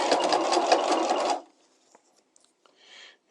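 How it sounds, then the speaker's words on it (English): Sewing machine back tacking a boning casing onto a structured bodice lining: a close, steady mechanical whir of rapid stitching that stops abruptly after about a second and a half, followed by faint fabric handling. "We're going to back tack."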